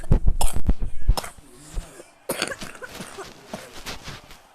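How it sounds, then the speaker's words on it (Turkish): Several sharp coughs close to the microphone, a quick cluster at first, then a few more scattered coughs with breathy sounds between. "Öyle bir öksürüyorum nedense"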